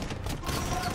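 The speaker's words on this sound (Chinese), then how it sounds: "手摆动了一下，然后子弹就飞出去了啊，比那个西部牛仔拔枪速度还要快" Elite Janissary hand cannons firing in Age of Empires II, a dense crackling fusillade of overlapping shots that stays loud and continuous through the whole moment, with no talk.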